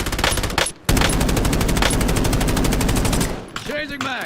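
Rapid automatic gunfire from a video game weapon in Warzone Resurgence, with fast dense bursts, a brief pause, then more sustained shooting, with voices near the end.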